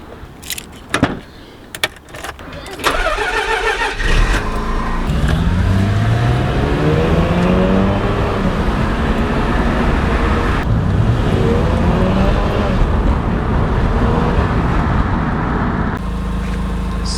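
A completely stock Mazda RX-7 rotary engine cranks with a few sharp clicks, catches, and settles into a steady loud running drone, rising and falling in pitch as it drives off.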